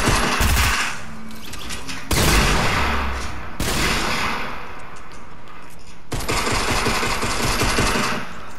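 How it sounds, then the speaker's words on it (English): Gunfire in the Fortnite video game: loud sustained bursts of rapid automatic shots fill the scene, breaking into several dense volleys with brief pauses between them, no talking. "Why are they shooting at you?"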